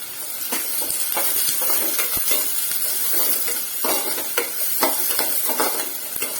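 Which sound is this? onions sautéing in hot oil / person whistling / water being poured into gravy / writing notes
onions sautéing in hot oil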